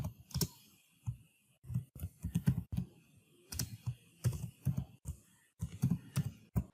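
Computer keyboard typing while a web page heading is entered, coming as separate bursts of clacking keystrokes with brief pauses, close and clear with no talk.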